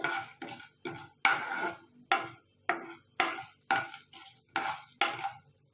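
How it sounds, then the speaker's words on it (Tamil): A spoon scrapes and clinks rhythmically against a pan about ten times as peanut chutney ingredients are sautéed, each stroke a close, distinct metallic swish with short pauses between. "நல்லா வதங்கட்டும்."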